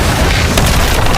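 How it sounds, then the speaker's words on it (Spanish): A big, loud explosion sound effect roars alone as a dense, sustained rumbling blast that fills the whole moment without any pause. "ocurriría una gran explosión"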